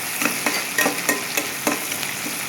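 Onions fry in oil in a wok with a steady, close sizzle, broken by a rhythmic series of sharp clacks from stirring, with no talking.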